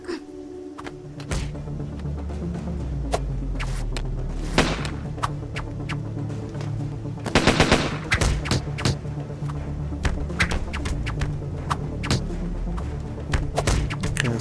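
Gunfire from an enemy gunman in the video game Deus Ex, with sharp repeated shots and thuds over a low game hum and a dense burst of rapid fire midway, no talking.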